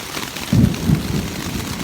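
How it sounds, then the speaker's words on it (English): Thunder and rain on a camping tent at a furnace shelter: a low thunder rumble swells briefly then fades under continuous loud rain pattering close overhead. "The thunder."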